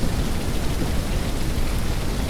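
Rain falling in the farming video game Ranch Simulator makes a steady, dense hiss that stays loud and even throughout, with no voices.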